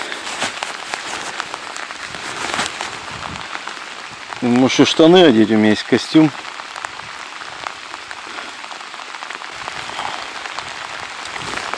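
Steady rain patters on surfaces around an angler fishing with a bottom rod, with someone speaking briefly over the constant hiss of the downpour.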